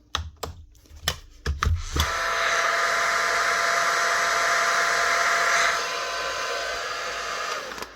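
Paslode cordless nail gun with a rough, rattly motor fault: a few sharp clicks and clacks, then a sustained buzzing whir with a rattling edge that runs for several seconds before easing off, close up with no talking.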